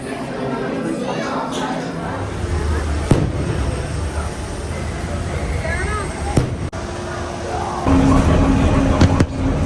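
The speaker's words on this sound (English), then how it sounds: "we watched the fireworks while riding the monorail back to the hotel" Fireworks at Disneyland, heard from a moving monorail, give a few scattered booms and pops over steady train rumble, with people talking throughout.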